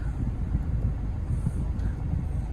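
Air conditioning vents blowing inside a 2017 Toyota Innova 2.8G SUV, a steady, close, low rushing of air with no talk over it.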